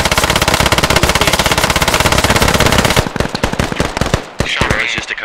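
Rapid automatic gunfire in a 40-versus-40 World War-era squad shooter game, a loud continuous rattle that breaks into separate close shots and short bursts near the end.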